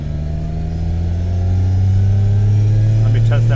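Straight-piped 750HP Nissan R32 Skyline GT-R with a sequential gearbox, its engine droning loud and close and rising steadily in pitch as it pulls under load, with a quick shift near the end while people talk over it.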